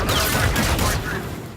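A semi-auto Volk rifle in Infinite Warfare fires a rapid burst of loud, close shots, the blasts crowding together before trailing off.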